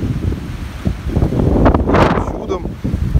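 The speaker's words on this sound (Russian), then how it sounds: "Вот это шелестение воды." Water rustles and splashes at a small park waterfall by a bridge on an estate, a close, continuous trickling wash with gusts of wind noise over it.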